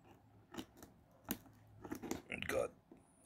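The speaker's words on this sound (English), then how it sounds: "I'm just going to use these scissors right here to cut it" Small scissors snipping through tape, a few quick close cuts with short pauses between them, partly under faint talk.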